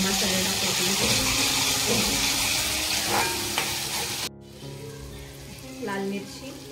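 Masala browning in a pan for a prawn curry, a loud continuous hiss and sizzle that cuts off abruptly partway through, followed by quieter kitchen noise and a brief clatter.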